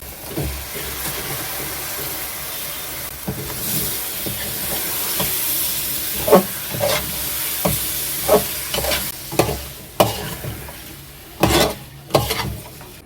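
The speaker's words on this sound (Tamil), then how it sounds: "ஆறு காடை வாங்கி வந்து க்ளீன் பண்ணி வச்சுருக்கேன் இதில் ஆட் பண்ணுறேன்" Six cleaned quail added to a hot pan, steady sizzling and hissing that builds into repeated loud scraping and clanking strokes of a spoon against the pan.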